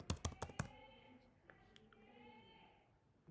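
Keys on a computer keyboard clatter in a quick burst of sharp clicks at the start, followed by a few scattered taps while a voice talks quietly underneath.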